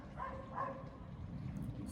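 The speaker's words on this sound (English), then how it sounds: "Sorry for the dog barking in the background." A dog barks twice somewhere in the house during a weekend recording, soft and muffled bursts in the background with no other sounds on top.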